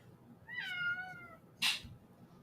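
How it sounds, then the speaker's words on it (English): A black cat gives one drawn-out, whining meow up close, followed by a short sharp clatter or thump, with no talk over a quiet room background. "Cat."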